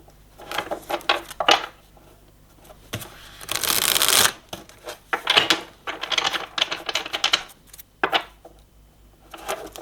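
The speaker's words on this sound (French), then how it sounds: "On va aller recouvrir les cartes." Tarot cards being gathered and shuffled on a table, a series of soft riffling and slapping bursts of varying length, close by and fairly quiet.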